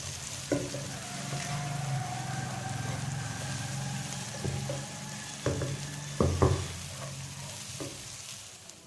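Chopped cabbage sizzles steadily in a pan for a Spanish omelette, a soft continuous frying hiss broken by occasional scraping stirs and clinks, heard up close with no voices.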